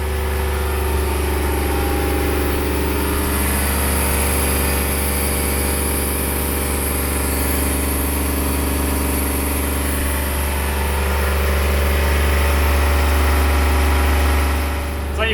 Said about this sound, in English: the water maker's running and it's loud.